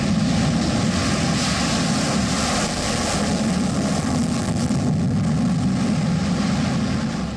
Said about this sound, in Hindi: आसमान में अचूक प्रहार करने वाले 2 युद्धक विमानों की गर्जना सुननी होगी